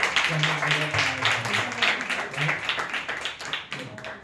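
A church congregation applauds the worship team with a brief burst of scattered, moderately distant clapping, a speaker's voice talking over and around it.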